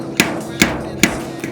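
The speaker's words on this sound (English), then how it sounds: "use this slide hammer and slowly work my way towards the center of it" Slide hammer pulling a dent from the sheet-metal truck box of a 1961 Chevy Apache, four sharp metallic impacts spaced evenly about every 0.4 seconds, close and fairly loud, with no talk.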